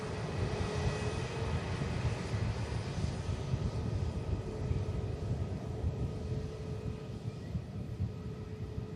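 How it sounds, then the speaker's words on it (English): Lufthansa airliner climbing off the ground at an airfield, a steady distant engine rumble with a faint tonal hum, moderately quiet and unbroken, no voices. "Coming up off the ground from the airfield, guys. Lufthansa. Coming in from Frankfurt."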